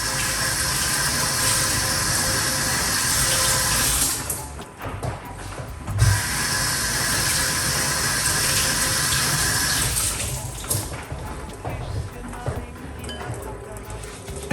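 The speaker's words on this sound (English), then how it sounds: "let's rinse off the Cerasee." Tap water runs steadily while cerasee leaves are rinsed under it, a continuous near splash with two brief interruptions as the leaves are moved through the stream.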